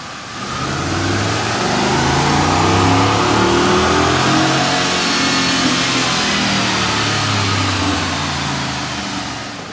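A 2020 Ford 7.3L Godzilla V8 truck engine roars through a dyno pull, revving loud and sustained near the microphone with a steady climbing drone for nearly ten seconds, no talking.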